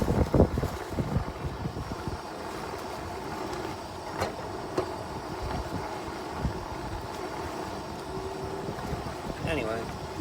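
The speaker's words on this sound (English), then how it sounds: "It's very windy in Alabama." Strong wind in Alabama buffets the microphone in an outdoor roadside cooking spot, a steady rumbling roar with gusty surges throughout.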